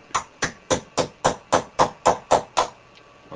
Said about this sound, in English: center it onto that roll pin and hammer that pin down inside of the bolt head